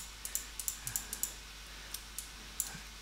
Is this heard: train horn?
no